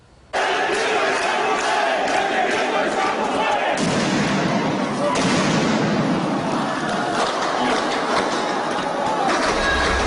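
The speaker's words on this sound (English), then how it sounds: "Looks like protesters being tear-gassed and then fired upon on the streets of Homs this week" Gunfire crackles at protesters being tear-gassed in the streets of Homs, a loud and continuous barrage of shots mixed with a crowd's shouting and noise, with a heavier surge partway through.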